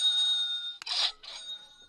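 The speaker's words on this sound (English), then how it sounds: "And there's the market bell." A stock market bell rings in a short, bright clanging burst, fading quickly against a steady background hum.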